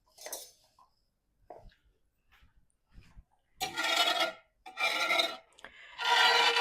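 A turner scrapes the bottom of a pan used for macaroni, starting with a few faint clinks and taps, then three loud, rough rasping strokes close by.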